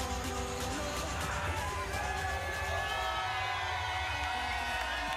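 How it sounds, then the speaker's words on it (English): Big stadium crowd at a Concacaf Gold Cup soccer match between Haiti and Mexico, a steady, loud roar of cheering and shouting that runs the whole time with no break. "This crowd is ready to get things going."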